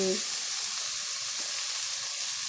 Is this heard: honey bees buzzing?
no